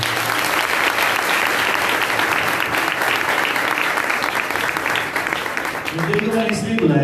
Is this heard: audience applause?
yes